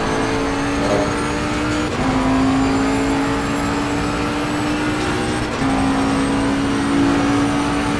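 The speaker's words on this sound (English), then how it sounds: "sheer panic braking, I actually got it stopped" A race car in Assetto Corsa Competizione brakes hard in practice: a loud, continuous engine drone that drops in pitch in two distinct steps as it sheds speed, with no talk.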